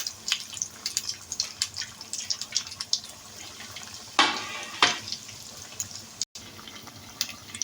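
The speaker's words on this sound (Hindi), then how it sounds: "इस तरह हमने डाल लेने और इनको गोल्डन ब्राउन होने तक फ्राई कर लेना है हमने।" Crispy coated chicken balls fry in hot oil until golden brown, giving a steady crackling sizzle with scattered pops and two louder bursts of spattering midway. No voices.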